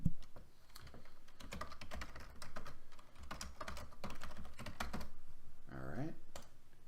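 Keyboard keys tapped in quick irregular bursts while an email address is entered, close and fairly clear under a faint background, with a brief higher tone near the end.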